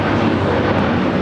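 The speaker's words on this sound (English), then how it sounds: "1635 taking off to Washington Dulles on the 757-300" A United Airlines Boeing 757-300 taking off at LAX, its jet engines making a loud, broad, steady roar throughout this short stretch.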